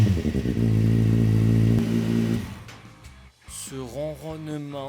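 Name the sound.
motorcycle engine idling, purring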